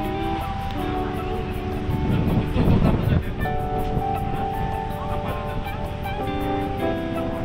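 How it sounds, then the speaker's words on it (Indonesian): Steady roar of strong wind and big waves at Merak port in Banten, Indonesia, with a heavy low rumble, swelling louder for a moment midway, with faint tonal machinery hum underneath. "angin sangat kencang, ombak besar sekali."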